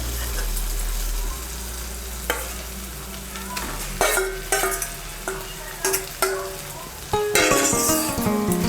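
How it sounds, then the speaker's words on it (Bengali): Spinach paste for palak paneer stirred into frying masala in a pan, a steady sizzle with rhythmic scraping strokes and clinks of the spoon, growing busier and louder near the end, close up. "এখন আমি এর মধ্যে দিয়ে দেবো পালং শাকের পেস্টটা"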